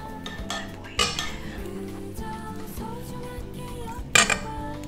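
Ingredients for Hokkaido milk bread, with activated yeast, are tipped and scraped into a mixing bowl, making a few clinks and knocks of utensil on bowl over a soft background hum.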